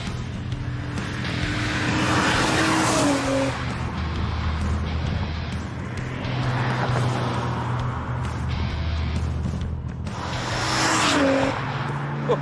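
A single-turbo Nissan Skyline engine surges loudly and close, rising in pitch through repeated bursts of acceleration with a throaty, roaring tone.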